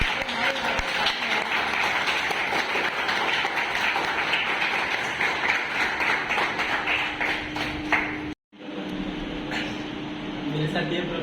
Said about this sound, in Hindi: ताली तो बजना चाहिए।